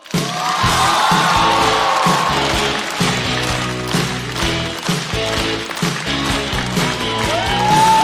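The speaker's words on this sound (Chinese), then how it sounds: "掌声欢迎山河。" A studio audience claps and cheers loudly and steadily to welcome a female stand-up comedian onto a Chinese comedy show stage, with music playing under the applause.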